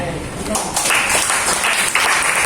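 A church congregation breaks into applause during a sermon. The clapping is loud and steady, and a voice speaks over it at the same time.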